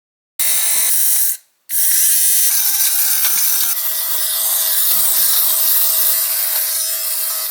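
An electric lint shaver strips pills from a sweater with a close, steady buzzing whir. It cuts out briefly after a second, then runs on evenly with a faint rubbing rasp.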